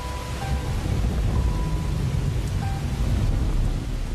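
Heavy rain pours down steadily in a hot city during a storm, a dense unbroken roar with low rumbling underneath that could be thunder.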